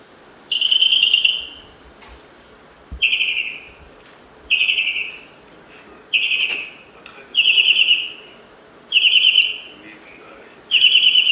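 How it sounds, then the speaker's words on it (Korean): Recorded birdsong played back: clear, high whistled phrases repeat about every second or so, seven or eight evenly spaced bursts over a quiet background. "정말 아름다운 새소리 아닙니까?"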